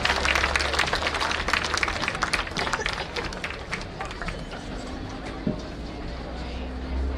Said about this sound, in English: Give these young men a big round of applause.